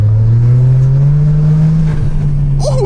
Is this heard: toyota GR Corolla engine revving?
yes